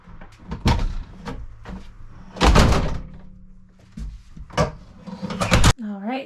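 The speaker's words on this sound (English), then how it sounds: "I'm gonna close the back doors." Back doors being swung shut, giving several heavy thunks and knocks spread across a few seconds, with a brief voice near the end.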